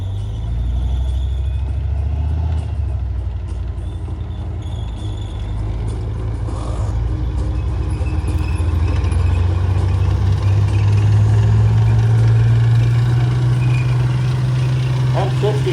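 A heavy M60 tank engine rumbles loud and steady as it charges across an outdoor arena battle at the Canadian Tank Museum in Oshawa, its deep droning growl rising over time beneath a commentator's voice.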